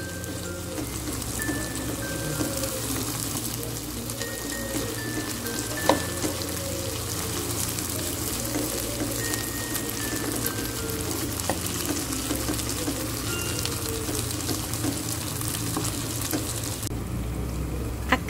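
Corned beef frying and being stirred in a pan makes a steady dense sizzle throughout, with occasional soft scrapes and clinks of the utensil and a faint background tone.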